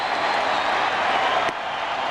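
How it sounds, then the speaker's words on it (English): Baseball stadium crowd stirring in the rain at an Angels–Athletics game: a steady, broad wash of crowd noise and rain hiss that holds evenly, with a brief dip after a short spike. "The crowd is stirring"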